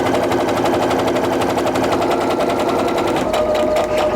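A sewing machine runs continuously at high speed, stitching down the side of quilt pieces, a loud, close, rapid rattling hum without pause.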